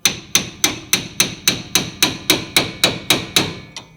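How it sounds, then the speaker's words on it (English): A hammer taps a metal pickle fork about a dozen times in a steady, even rhythm, separating front suspension tie rods on a Dodge Challenger, each strike sharp and ringing, close up with no talking. "Put it right in there, and just tap with a hammer."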